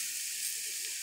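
Tomato, mint and coriander sauté in hot oil for a home-cooked biryani, giving a soft, steady sizzling hiss that stays even and fairly quiet throughout, with no talk over it.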